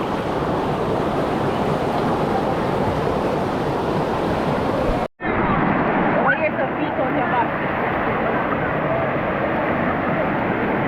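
Strong rushing river water at Cherry Hill Falls pours in a loud continuous roar, briefly cut off by a short gap before resuming.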